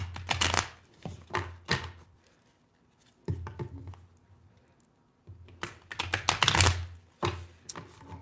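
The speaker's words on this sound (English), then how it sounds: "Let me shuffle these cards and then we'll get started." Tarot cards are shuffled in quick riffling bursts, separated by short quiet gaps; close and crisp, with no one speaking.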